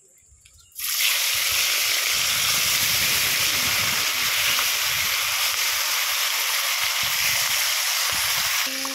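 Fish fried in hot oil gives a loud, steady sizzle and hiss that starts abruptly and runs continuously with no talk over it.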